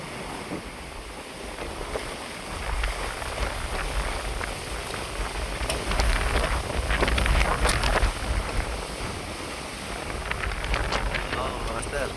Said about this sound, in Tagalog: Master, nagagalit yung hangin master